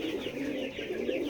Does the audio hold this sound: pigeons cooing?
yes